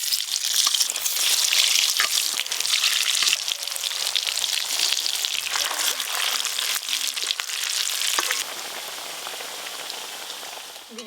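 Potatoes for chicken biryani frying in hot oil, a dense, even crackling sizzle that carries on steadily, easing slightly near the end; close, with no voices.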